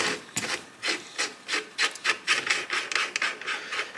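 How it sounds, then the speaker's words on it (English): Channel-lock pliers twist and grind at a muzzle nut on a Mini Jack AK pistol, producing a series of short, close rasping scrapes in an uneven rhythm. "Channel locks, give it a twist, you'll bust that loose."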